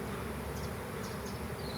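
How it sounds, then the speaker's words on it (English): Honey bees swarm at an open hive during a beekeeping class, making a continuous dense hum. It is faint but steady and close, with no talk. "Dang, it's so many bees. And you see their tone now is a little different"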